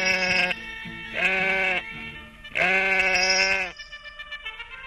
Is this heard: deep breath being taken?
no